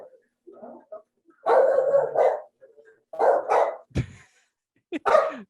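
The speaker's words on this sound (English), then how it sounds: "It's a big dog, big bark for such a tiny little dog too." A tiny dog barks in sharp, loud bursts, about four or five barks spaced irregularly, with softer whimpering yips between them, close and alone.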